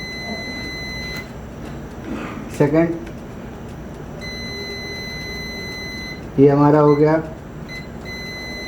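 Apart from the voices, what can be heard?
multimeter continuity beep while testing a laptop motherboard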